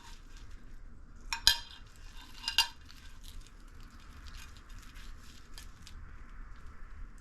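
A knife slices a fried beef, bean and cheese burrito in half on a plate, giving two faint, sharp clinks of metal against the plate over a quiet kitchen background.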